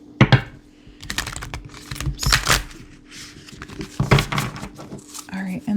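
An oracle card deck is shuffled close up, with crisp irregular riffling clicks and card slaps in short bursts, with a voice speaking in between.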